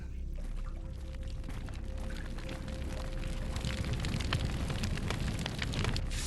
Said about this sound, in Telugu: వాటర్ పోసేసాం